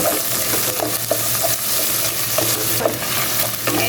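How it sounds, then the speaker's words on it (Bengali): Ten or twelve slit green chillies fry in a pan with dried fish and onion, giving a steady, loud sizzle with regular scraping stirs close by and no voices. "এখন এই পর্যায়ে দিয়ে দিব আমি দশ বারোটা কাঁচামরিচ চিরা এটা কিন্তু চেরা কাঁচামরিচ দিয়ে এটাকেও এটার সাথে আবার একটু ভেজে নিব"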